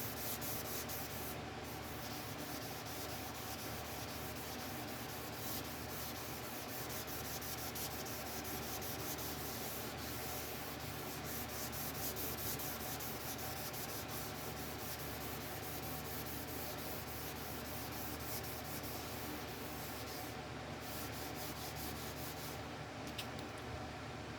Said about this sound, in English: check every once in a while when you're sanding that nothing fell into